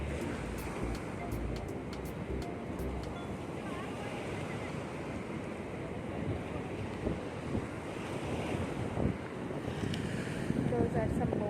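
Rough sea waves roll in at Kovalam Beach, a broad steady wash of surf mixed with heavy wind buffeting the microphone, with faint voices in the background.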